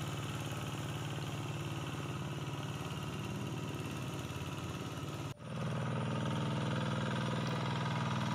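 A hand tractor engine drones steadily as it works a flooded rice field, churning straw into the mud; the mid-pitched chugging runs continuously and close, briefly dipping before resuming slightly heavier.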